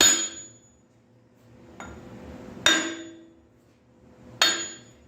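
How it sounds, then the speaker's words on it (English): Three sharp metallic strikes, fairly close, as a piece of brass knocks each end of a bearing cap on a Ford 351 Windsor V8 crankshaft being set. The hits are spaced and ringing, with a quieter tap between, and no talk. "And then you just give this a whack with a piece of brass on either end."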